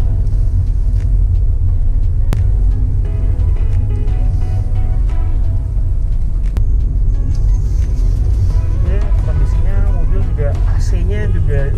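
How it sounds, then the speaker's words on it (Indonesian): A used car on a test drive over small, rough back roads, its engine and road rumble loud and steady throughout, with people talking over the cabin noise. "Sekarang kita nyobain mobilnya ke jalan-jalan kecil yang nyari yang kontur jalannya buruk, pengen tahu kaki-kakinya."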